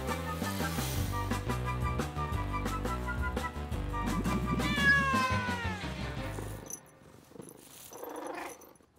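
A cat meows and caterwauls over a bed of loud music, then the music drops away and a fainter cat sound remains near the end.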